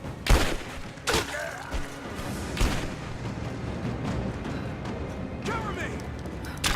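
Gunfire and booming impacts in the video game Rise of the Tomb Raider, a few loud bursts and blasts over a rumbling battle ambience, with a voice talking over the action.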